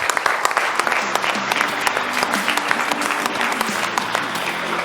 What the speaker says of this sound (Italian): allora facciamo un applauso al bomber